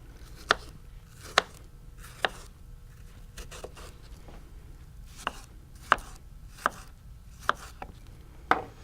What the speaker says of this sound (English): I'm just going to cut it into wedges like I did with the peaches